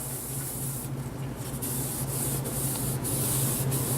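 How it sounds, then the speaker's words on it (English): A green 3M scrub pad rubbing across the exterior surfaces of a TurboChef i3 oven, a continuous close, gritty back-and-forth scrubbing over a low steady hum. "I'm going to go in with my green 3M scrub pad and try to loosen some of the debris on all of the exterior surfaces"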